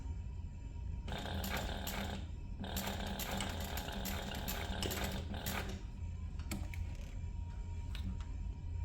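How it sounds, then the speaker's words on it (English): A domestic sewing machine bastes the ends of a bag strap with a 1/4 inch seam, running in two close bursts of rapid mechanical whirring separated by a short pause, then a few lighter taps. "I'm going to baste the ends of this using a 1/4 inch seam allowance"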